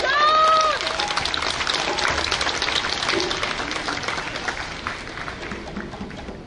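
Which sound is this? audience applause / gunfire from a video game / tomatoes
audience applause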